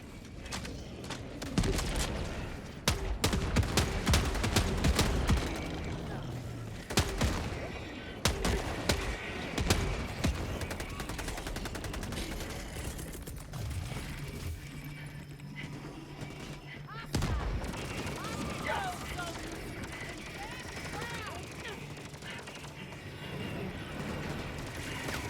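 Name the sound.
machine gun firing in the video game Helldivers 2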